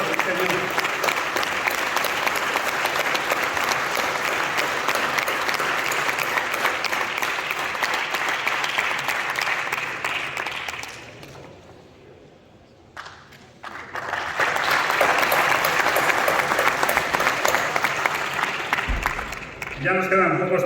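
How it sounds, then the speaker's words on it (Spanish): An audience gives loud, sustained applause at a cattle fair award ceremony for Avileña-Negra Ibérica breeders in Ávila. The applause dies away briefly, then a second full round of clapping swells up and continues. "Un fuerte aplauso a este mundo."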